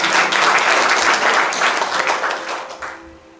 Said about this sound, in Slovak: tak hádam potleskom mu zavolám